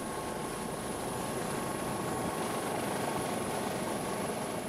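Helicopter flying over the sea during a pursuit of a drug-smuggling speedboat, a steady rushing rotor and turbine roar held at an even level for the whole stretch, with no voices.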